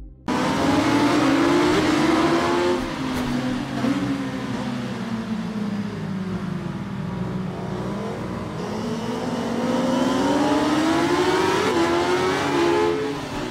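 Motorcycle engine in the Ride 5 racing game on PS5, a loud, continuous high-pitched whine rising and falling as the bike revs and shifts through gears, up close and alone with no talk.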